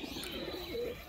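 Pakistani teddy pigeons cooing softly in a loft, a steady low murmur of coos with faint chirps over a continuous background hum, no talk.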